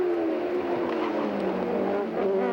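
Atlantic series race cars in a 1990 race, screaming along the straightaway toward a hairpin as one driver tries to pass, a loud continuous engine wail with shifting pitch as the cars go past.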